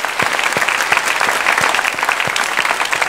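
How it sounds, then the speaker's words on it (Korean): A church congregation applauds during a Friday worship service, a loud, even round of clapping with crisp individual hand claps standing out, sustained throughout. "박수합니다."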